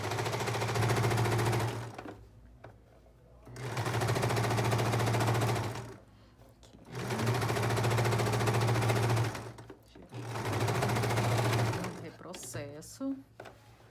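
A sewing machine stitches viscose fabric while a beach cover-up is being made, running in four even bursts of about two seconds each with short pauses between. The hum is close and loud, and a voice speaks briefly near the end.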